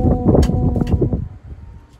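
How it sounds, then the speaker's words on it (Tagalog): Loud, rough winter wind in Japan, with ice around, buffeting the microphone in heavy low gusts that ease off toward the end, with no voices. "Malakas ang hangin."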